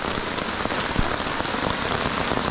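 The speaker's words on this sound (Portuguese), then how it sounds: "Olha a chuva que tá aí aqui, cara." Heavy rain pours steadily during a thunderstorm at a fishing camp, a dense continuous hiss of drops pounding a surface, loud and close with no voices.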